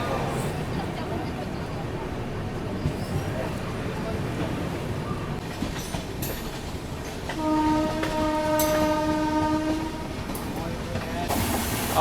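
The Rajdhani Express and the Satyagraha Express run side by side near Sahibabad Junction during an overtake. A steady rail rumble with wheel clatter is broken midway by a sustained, loud train horn, and a second horn blast comes near the end.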